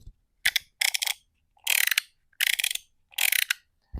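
An aluminum Mech Wallet's fidget mechanism gives five separate bursts of rapid mechanical clicking and ratcheting, close and clear with short quiet gaps between them and no talking.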